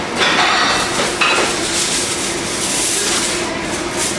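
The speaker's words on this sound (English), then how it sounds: "now I'm gonna reach across the camera again and pull the foil out and go completely over it" Aluminium foil is pulled out and sealed over a pan of ribs, a close, continuous crinkling rustle with a few sharper crackles near the start.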